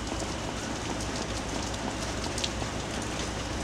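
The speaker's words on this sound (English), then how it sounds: "It's raining." Steady rain falls outside, a dense even patter on surfaces with no voices, continuous and moderately loud.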